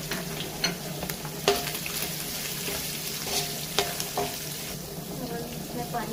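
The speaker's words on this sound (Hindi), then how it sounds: "1 से 2 मिनट हो गए हैं चिकन को फ्राई होते हुए।" Chicken fries in a pan seasoned with salt, black pepper and chicken sauce: a steady, close sizzle runs throughout, with a few sharper pops and stirring scrapes punctuating it.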